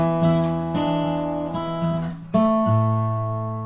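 Clean single guitar notes picked one after another in a blues lick, with quick hammered-on pitch changes ringing out clearly, close and unaccompanied.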